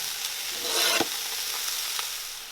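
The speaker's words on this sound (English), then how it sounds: "we're just going to saute the broccoli for a couple minutes" Broccoli sautéing in a pan with ginger, a steady close sizzle with a swell of hiss near the start and a few sharp clicks of a utensil against the pan, no voices.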